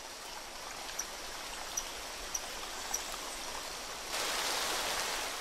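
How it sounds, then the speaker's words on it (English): Short, sharp calls from a small Bornean rock frog repeat at a steady pace, about one per second, over the loud constant rush of a stream. "Croaking to win the female's favor."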